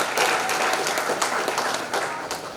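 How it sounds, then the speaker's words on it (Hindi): An audience at a Hindi-language launch event gives a burst of loud, dense clapping that holds steady across the moment and then eases slightly toward the end, with no voice over it. "तो एक बार इस धरती के लिए जोरदार तालियां हो जाए"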